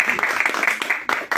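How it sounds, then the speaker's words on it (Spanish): Applause from the audience at the close of a debate event, a brief burst of clapping with some sharp individual claps, heard at moderate loudness. "Vamos a despedirnos con un fuerte aplauso."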